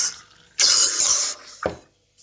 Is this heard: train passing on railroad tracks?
no